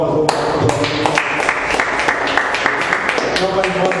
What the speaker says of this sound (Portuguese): Que as palmas vão